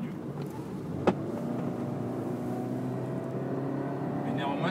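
Honda Jazz Hybrid with a continuously variable transmission accelerating, its engine holding a steady drone with a slowly rising whine from start to end, plus a brief sharp knock early on, under a voice talking.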